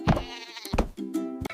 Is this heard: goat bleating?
yes